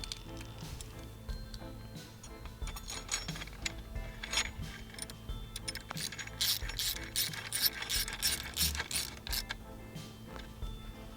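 A ratchet wrench backs out an 8mm bolt while fitting rally footpegs and a brake guard on a CFMoto Ibex 450 MT motorcycle, giving a fast run of close metallic clicks that grows busier toward the end, with no talk.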